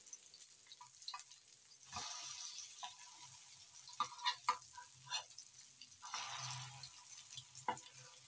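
Potato tikki kebabs (aloo tikki) sizzle in a pan after being flipped, a soft, steady frying hiss with occasional clinks and scrapes of a utensil, close and fairly quiet, with no talk.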